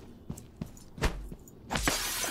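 In the video game Prey, glass breaks in several sharp, crashing hits: a few smaller cracks first, then a heavier smash, and a final burst with tinkling shards trailing off.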